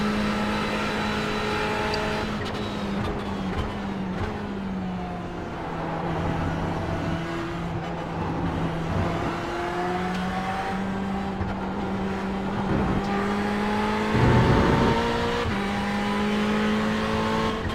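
Race cars lapping Spa in a racing game during a 24-hour endurance event: a steady engine drone that rises and falls with gear changes, with other cars passing nearby and occasional tire noise, no talking.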